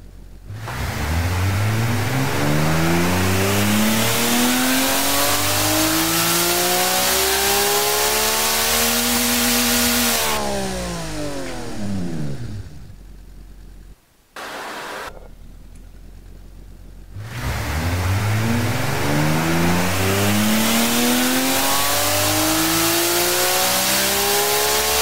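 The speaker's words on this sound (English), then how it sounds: "I love the sound of inline sixes." An inline-six car engine in the game Automation revs hard through two long pulls, its pitch sweeping up and back down each time, loud and close, with a brief quieter idle between.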